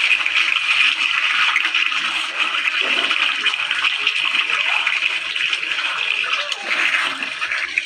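Water is poured into a pan of chicken curry cooking in oil, a steady splashing gush that runs unbroken and fairly loud.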